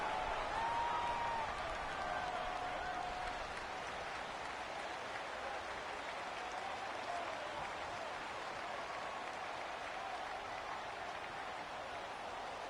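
Stadium crowd noise from a PS4 football video game, a steady, even roar of cheering and applause that holds at a constant level throughout, with a few faint tones rising briefly above it near the start.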